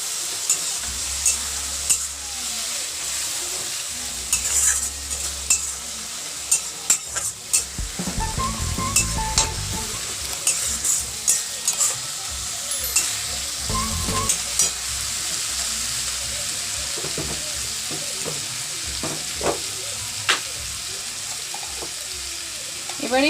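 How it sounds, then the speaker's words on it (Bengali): Masala paste with turmeric fries over a medium gas flame, hissing steadily while a spoon stirs and scrapes the pan; brief bursts of running tap water and faint background talk break in midway. "গ্যাসের ফ্লেমটাকে মিডিয়াম রেখে মশলাটাকে খুব ভালো করে কষিয়ে নেব"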